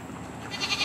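Goats on a farm bleat faintly during a herd cull, a few thin cries rising toward the end of a short stretch over low background rumble.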